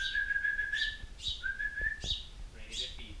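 A baby bird chirps in short, high, repeated peeps, about four calls spaced across a few seconds, over a low background rumble with no talking.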